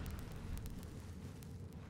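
A low, rumbling explosion in the video game Crysis Warhead rolls on for a couple of seconds as a dense, muffled boom at moderate distance.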